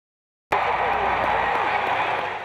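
A large Little League World Series crowd at Lamade Stadium in South Williamsport cheers and applauds, bursting in suddenly and holding as a loud, dense roar of clapping and voices.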